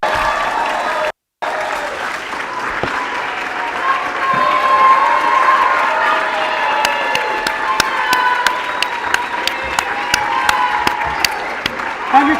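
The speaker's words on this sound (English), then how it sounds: "Loud round of applause for our class of 23." A crowd at a soccer club's senior night claps and cheers loudly for the graduating class of 2023, a sustained roar of applause with sharp claps and whistles standing out, briefly cut by a moment of silence near the start.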